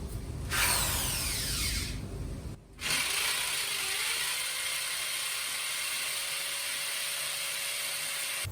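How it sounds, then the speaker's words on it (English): A hammer drill bores into a concrete wall with a loud, steady grinding whir, pausing briefly before starting again and continuing at constant pitch up close. "But I have a hammer drill, so I'm gonna try it."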